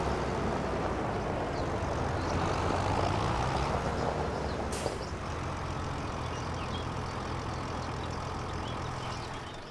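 A vehicle engine runs steadily in Farming Simulator 25 on the Elmcreek farm, a continuous loud broadband drone that holds level throughout and eases slightly near the end.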